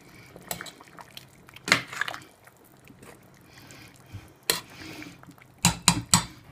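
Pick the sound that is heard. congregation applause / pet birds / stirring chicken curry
stirring chicken curry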